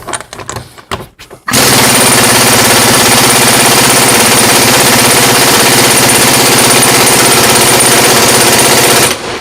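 A Kamolee DTW700 cordless impact wrench tightens at third speed, a few short clicks and taps before a loud, continuous rapid hammering that runs for about eight seconds, then stops.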